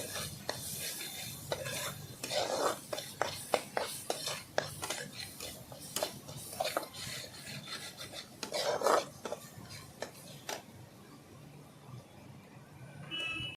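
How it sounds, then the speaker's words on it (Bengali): Chili powder, turmeric and salt are sautéed in a pan for a Bengali dish with besan and Malabar spinach leaves, heard as repeated close scraping and rasping strokes of a spoon against the pan over a faint sizzle. "লঙ্কা গুঁড়ো লবণ ভালো করে আমি কষিয়ে নেব"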